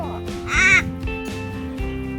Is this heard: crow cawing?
yes